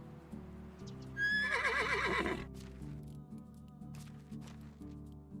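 A horse in the medieval survival game Medieval Dynasty gives one loud whinny over steady background game music.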